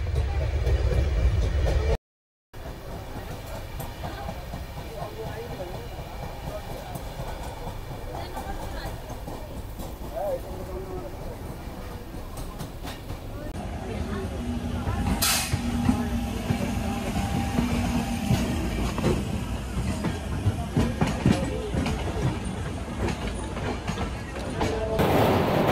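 The 12329 West Bengal Sampark Kranti Express passenger train rolls along the rails from Kolkata toward New Delhi, a continuous rumbling clatter heard from inside, with occasional clunks and people talking over the steady noise.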